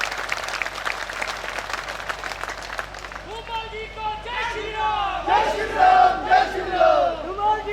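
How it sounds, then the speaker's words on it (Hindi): Audience at a party convention rally in Hamirpur bursts into loud, sustained clapping, building in intensity with scattered cheers and shouts over the dense crowd applause. "एक जोरदार ताली अपने लिए बजाओगे"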